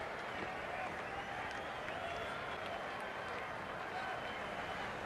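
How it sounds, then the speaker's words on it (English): Steady, dense applause from a large crowd lining a street for a procession of ambulances, continuous and even throughout, heard from a distance. "The crowd's greatest applause for the injured soldiers in a procession of ambulances."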